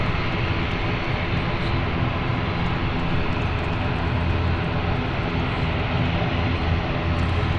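An ATR turboprop taxiing to park at London City Airport produces a steady, loud, broadband engine drone with a constant propeller hum, unbroken throughout.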